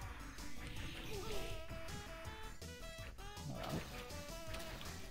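Barking and yipping from a dog enemy in an FBA arcade beat 'em up, mixed with game music, hit and crash effects, a busy continuous soundtrack.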